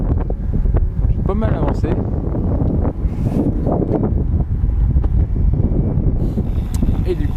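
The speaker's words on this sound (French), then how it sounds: "j'ai le vent dans le dos là" Constant heavy wind buffeting the microphone while cycling on a Canyon Endurace CF 8.0 road bike with a tailwind, a dense low rumble throughout, while someone talks briefly over it.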